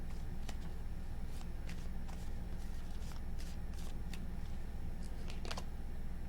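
Tarot cards shuffled by hand during a reading, a run of brief papery riffling bursts close up against a steady low room hum.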